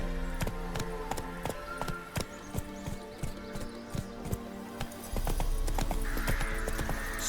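Roach the horse galloping in the video game The Witcher 3, with rapid rhythmic hoofbeats pounding steadily and close, and a brief swell of ambient noise near the end.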